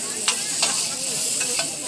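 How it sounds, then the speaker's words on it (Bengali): Shefali, a traditional Darjeeling food, frying in hot oil gives a steady bright sizzle, broken by a few quick scraping stir strokes, close and alone. "এই শেফালি ভাজা হলো"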